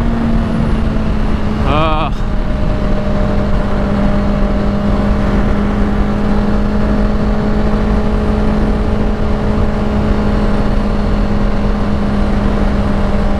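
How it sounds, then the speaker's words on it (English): A Honda CBR650R sport motorcycle engine roars at a loud, steady high idle, a sustained buzzing drone, with a short whistling chirp near the start. "Number 2 like, the roar. This engine howls."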